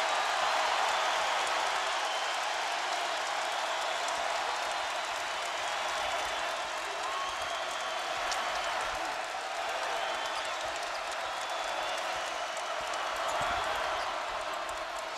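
Loud, sustained roar of a packed crowd at a North Carolina college basketball game, a dense wash of cheering and applause that holds steady for the whole stretch.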